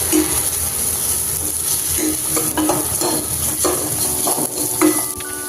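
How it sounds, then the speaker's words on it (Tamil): Onions sautéing in a hot pan as a spoon stirs them, a steady close sizzle with scattered scraping clicks of the utensil against the metal. "இப்போ வெங்காயம் நல்லா வதங்கணும்."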